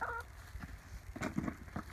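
Chickens clucking while scratching in an outdoor compost pile beside their run, a close, busy flurry of soft clucks and a couple of sharper calls over steady outdoor background noise, with no talking.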